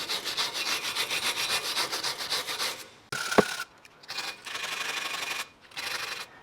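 A wire brush scrubs rust off the front brake caliper bracket of an MG3 car in rapid, close, raspy strokes, broken by short pauses and a single metallic clink.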